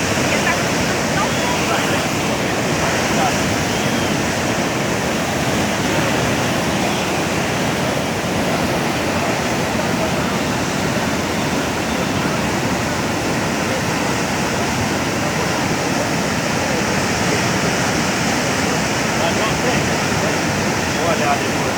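Rainwater rushing in a steady, loud broadband roar, like a torrent or waterfall, as part of the Homero Alves avenue collapses during a rainstorm; the flow continues unbroken throughout.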